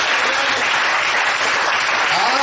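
A church congregation applauding during a sermon, loud, dense and sustained clapping from many hands throughout, close and even.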